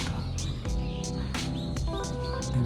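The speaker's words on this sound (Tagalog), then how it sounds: "Dami ibon dito." Many birds chirp and tweet outdoors in Kyoto, with sharp repeated calls rising above a busy background of nearby activity across the short stretch.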